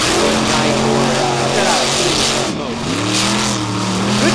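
A truck's engine roars hard as it spins a donut on a beach track, a loud, continuous, rough revving drone with pitch swings and tire scrub, close and steady throughout with a brief dip near the middle.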